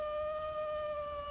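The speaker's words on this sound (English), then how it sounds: "you hear the howling of wolves" Wolves howl in a fantasy tabletop game sound effect, a sustained steady howl with layered tones held over a low rumbling bed, loud and unbroken through the clip.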